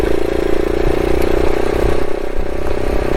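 Motorcycle engine ridden in third gear along a loose gravel trail through aspens, a loud, close and steady mid-pitched drone with a constant throbbing hum and no voices.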